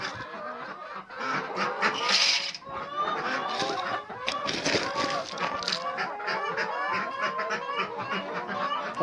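Busy poultry chatter throughout, a dense mix of honking, quacking and clucking ducks and chickens close by on a farm, with a brief human voice mixed in.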